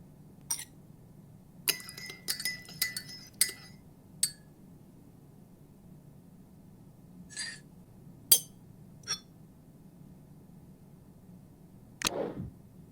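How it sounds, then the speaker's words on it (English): A spoon stirring tea in a cup in the video game Murder by Choice: a quick run of bright metallic clinks near the start, then a few isolated taps and a final clink over a quiet background hum. "I should use a spoon to stir the tea."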